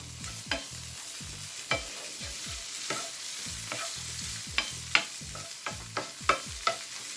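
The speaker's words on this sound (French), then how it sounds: "Je laisse griller aussi à peu près 5 minutes. Les jambons bien rissolés également." Diced ham fries in a pan while being stirred, a soft continuous sizzle punctuated by repeated sharp scraping strokes of a utensil, close, with no voices.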